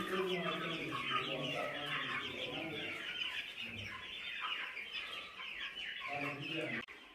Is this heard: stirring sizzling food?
no